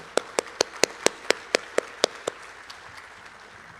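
Sharp, evenly spaced hand claps, about eleven in a steady rhythm, ring out in a hall during a city address, then fade into softer scattered taps and room noise.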